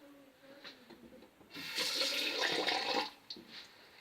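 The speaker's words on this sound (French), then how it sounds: "Et on se rince bien les mains." Running water gushes steadily for about a second and a half as hands are rinsed at a bathroom sink, close and fairly loud, with quieter splashes and drips before and after.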